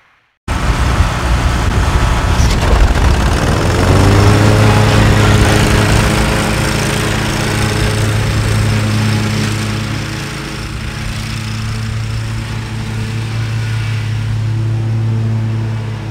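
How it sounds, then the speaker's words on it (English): A lawn mower runs continuously while cutting grass, its engine starting abruptly and settling into a loud, steady drone with a slight dip partway through before building again. "so I'm gonna get back to mowing this lawn"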